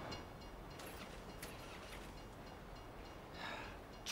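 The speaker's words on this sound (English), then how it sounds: "If you were local, you'd know the train comes by right now." Train passing by in Grand Theft Auto V, a faint steady rumble with metallic rattling and clanking of rail cars, distant and continuous.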